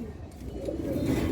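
A domestic pigeon coos low and continuous at close range on a pigeon farm, with no other sounds.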